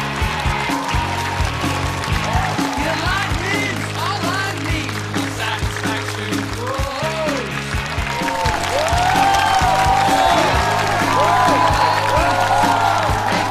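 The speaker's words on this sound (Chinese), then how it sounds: "掌聲歡迎一下" A studio audience at a Chinese roast comedy talk show breaks into dense, sustained applause that stays loud and close throughout, swelling slightly toward the end, with voices and a tonal backing sound running beneath it.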